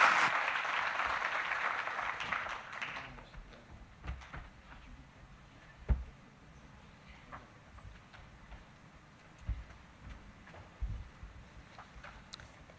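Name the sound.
audience applause for a panel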